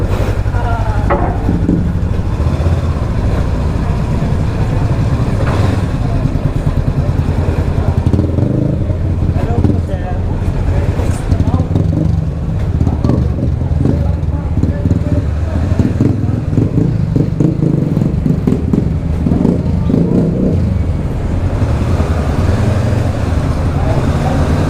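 Motorcycles ride in on a wet concrete road on Polillo Island, Quezon, with a steady loud engine drone and road rumble lasting throughout, close by, with faint voices now and then.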